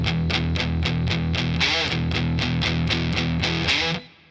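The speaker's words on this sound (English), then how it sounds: "you'll notice we've got some heavy distortion going on here" A riff played on a heavily distorted electric guitar: evenly pulsed, chugging chords repeat in a steady rhythm, loud and close, then cut off abruptly at the end with no voice.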